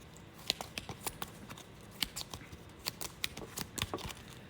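Playing cards shuffled by hand while setting up a solo board wargame, a quiet run of soft, quick riffling clicks and flutters close by with no talking.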